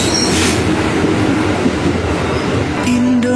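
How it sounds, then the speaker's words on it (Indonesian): A train rolls steadily past at close range, a loud continuous rumble of wheels and rail noise with a brief high wheel squeal near the end, no voices over it. "Kita akan kembali setelah kereta yang melewati."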